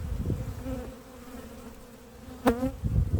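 Honeybees buzz around an opened hive while its frames are inspected, a steady, close, tonal drone with a sharp rising whine as one bee flies near, over low handling noises.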